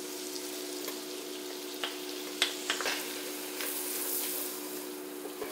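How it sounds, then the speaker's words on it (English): Flour whisked continuously in a pan over medium heat to make a roux, a soft steady sizzle and scraping stir with a few sharp whisk clicks against the pan, close and fairly quiet, no talking. "I'm adding my flour, and I'm gonna whisk it continuously for a few minutes"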